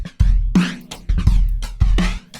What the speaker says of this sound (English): I added my hi-hats and the snare that I wanted, so you get something like this.